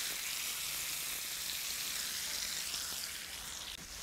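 Butter-basted Portuguese chicken sizzles steadily in a hot pan, a dense, even crackle and hiss that holds at the same loudness throughout and eases slightly near the end, with no voices.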